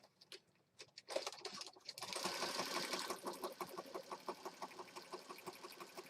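Sewing machine stitching through layered paper and fabric of a handmade junk journal, a quick run of rapid rhythmic needle clatter that starts after a few faint taps and continues steadily, close and fairly loud.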